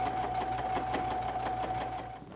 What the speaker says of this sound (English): when you start sewing, start in your 1/4 inch and then right there on the edge of the fabric that's underneath, and just sew right along that line